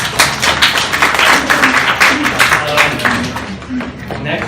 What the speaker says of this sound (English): Round of applause for Jen.